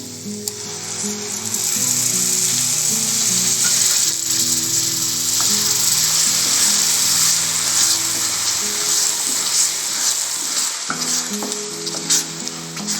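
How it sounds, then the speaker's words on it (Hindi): A tomato, cashew and green chili paste gravy for dhaba-style dum aloo fries loudly in a pan with a constant, dense sizzle. Stirring and scraping sounds surface now and then, and no one speaks. "अपने टमाटर की ग्रेवी को हम जब तक भूनेंगे जब तक इसमें मसालों से तेल नहीं निकलने लगे"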